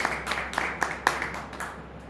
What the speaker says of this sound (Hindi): ताली बजा के हम प्रभु के नाम पे